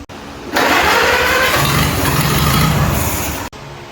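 An antique 1945 Farmall tractor engine cranks and catches, bursting into a loud rough roar that runs for about three seconds before cutting off abruptly.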